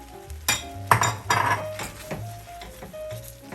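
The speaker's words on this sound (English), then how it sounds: "You also have to keep constantly stirring because you don't want it to stick to the pan." Metal spoon scraping and clinking in a pan while stirring a flour-thickened sauce for chili verde, a few distinct clinks and scrapes in an irregular rhythm, close and moderately loud, no talking.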